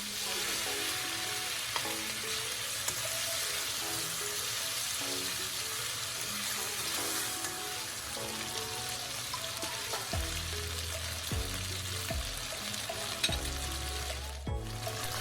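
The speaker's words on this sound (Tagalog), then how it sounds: "At kapag mainit na ito, pwede na natin i-sear ang ating marinate na chicken breast." Marinated, cornstarch-coated chicken breast sears in hot oil in a pan or wok, giving a loud, continuous sizzle, with low clunks of a utensil stirring toward the end.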